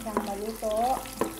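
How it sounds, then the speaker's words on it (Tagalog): Softened tomatoes fry in a pan for pinakbet while a spoon stirs them, giving a quiet sizzle with a few scraping knocks against the pan over a brief moment. "haluin natin ng konti para hindi naman siya masunog"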